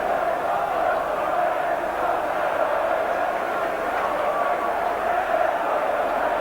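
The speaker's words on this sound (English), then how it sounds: "The applause is ringing all the way around the ground for Stuart Slater." A football stadium crowd during a 1991 FA Cup sixth-round match between West Ham and Everton applauds all around the ground, a dense continuous roar and clapping under a commentator's voice.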